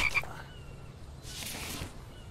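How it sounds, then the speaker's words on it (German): Frog croaking in the video game The Infected: a few short croaks near the start, with a brighter burst of calls later, over a quiet, steady background. "Ist das ein Frosch?"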